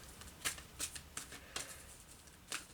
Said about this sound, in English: So let me get a couple of archangel cards.